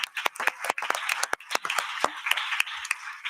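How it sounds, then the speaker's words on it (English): An audience at a European Union AI conference bursts into applause, a close, brisk patter of many hands clapping unevenly throughout. "big applause to you."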